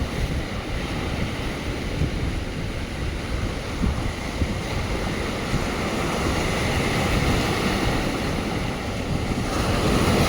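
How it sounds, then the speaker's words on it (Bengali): Rough waves on the Bay of Bengal make a loud, continuous wash of surf, mixed with heavy wind buffeting, steady and unbroken for the whole stretch with no voices. "বঙ্গোপসাগরের ঢেউগুলো একবার দেখুন, উত্তাল সমুদ্র এখন পুরো"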